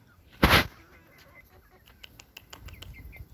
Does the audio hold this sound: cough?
no